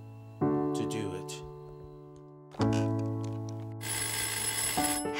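A telephone rings in repeated loud, sustained bell-like bursts, three distinct rings with a harsher electronic layer on the last, in a student short film scene.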